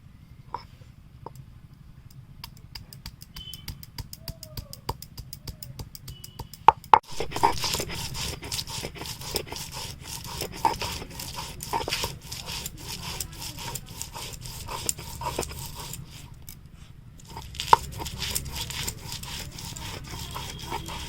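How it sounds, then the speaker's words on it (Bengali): Ginger and garlic are ground into spice paste with a steady, rhythmic scraping and rubbing of stone on stone, faint at first and then louder and continuous, with a few sharp knocks. "প্রথমেই বাটছি আদা ও রসুন।"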